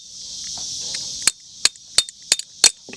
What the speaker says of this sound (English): Take your hammer and beat it down.